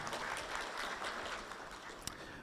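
Audience at a formal launch event applauding, faint distant steady clapping with one sharp knock near the end.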